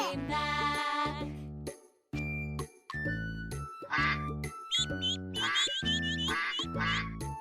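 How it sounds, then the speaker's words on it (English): A toy-like quacking tune plays with bright chiming tones, repeated duck quacks riding over a bouncy, steady melody. "Mother duck said, quack, quack, quack."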